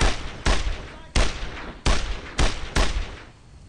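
Five heavy rifle shots in the World War II shooter Brothers in Arms, each a loud sharp crack with a decaying echo, spaced roughly every half second to second.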